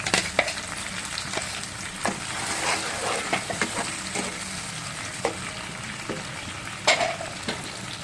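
Blended onion, ginger, tomato and green chili paste sizzles and fries in a pan for a silver carp curry, a steady crackling hiss broken by occasional stirring scrapes, close and alone.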